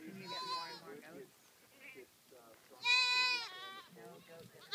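Goats kept for grazing bleat in a vineyard, giving a few loud, drawn-out calls between quieter moments, close by, with people talking.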